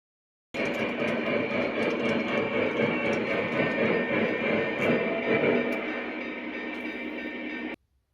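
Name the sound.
O gauge model train Big Boy locomotive running on layout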